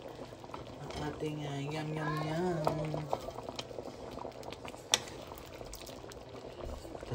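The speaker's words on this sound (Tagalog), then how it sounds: "talagang kumukulo siya" Pork menudo boils in a pot, a soft continuous bubbling and gurgling heard close up, with a brief clink partway through and a short spoken word.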